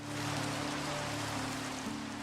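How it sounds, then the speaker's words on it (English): Steady rain falling in the Minecraft video game, an even, continuous hiss of drops that stays at the same level for the whole stretch, with no voices over it. "Oh, it's raining."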